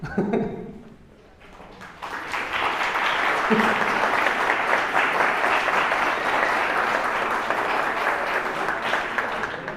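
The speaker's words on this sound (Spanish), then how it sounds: "si les damos un fuerte aplauso a MBZ Sandra Esnaurriza, Luis Morales y MBZ" Following a veterinary talk on monoclonal antibodies for pain and dermatology, a brief voice gives way to sustained, loud audience applause, a thick, even clatter of many clapping hands that continues to the end.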